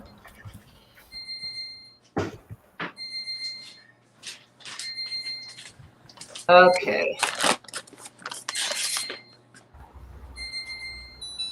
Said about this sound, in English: Oh, that's your timer